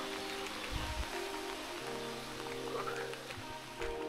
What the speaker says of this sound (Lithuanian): Lietus lyja